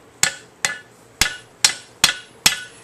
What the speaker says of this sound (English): give it a few smacks with a hammer.